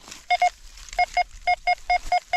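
A metal detector sounds its signal tone over a buried object in the ground: crisp, fairly high electronic beeps in pairs and triplets, repeated quickly and close, with no talk over them.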